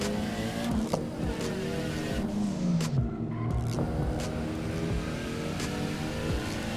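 Two track-prepared cars, a Mitsubishi Evo and a Subaru WRX, run on a racing circuit with steady, loud engine drone and a pitch sweep as one passes, continuous throughout.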